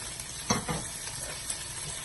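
Potatoes tipped into fried onions in a pan and stirred, a soft thump and brief scrape over a quiet, steady sizzle, faint and close, with no talking.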